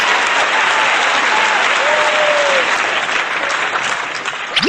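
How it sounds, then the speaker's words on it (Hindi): Steady, loud applause from a school audience at a Republic Day function greets a Class 7 student poet, dense clapping running throughout with a few whistles near the end. "तो जोरदार तालियों के साथ स्वागत कीजिए"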